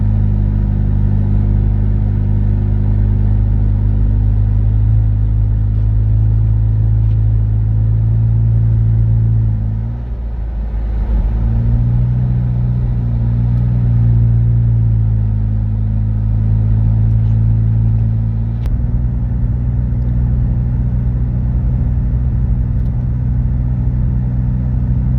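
A car driving on a frigid Michigan road in about minus thirty weather gives a loud, steady low engine rumble from inside the cabin, with a brief dip and shift in tone midway as the engine note changes.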